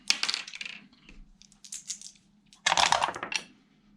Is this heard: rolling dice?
yes